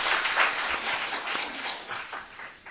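An audience at a political party meeting in Seoul applauds to welcome a lawmaker to the stage: dense, continuous clapping that holds at an even level for the whole stretch.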